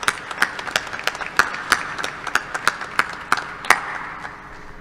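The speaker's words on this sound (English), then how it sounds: "let's give him a round of applause for his address" Audience at a university fall commencement ceremony claps for a chancellor's address, with sparse, distinct hand claps spaced through the room rather than a dense roar, fairly close and steady before fading slightly at the end.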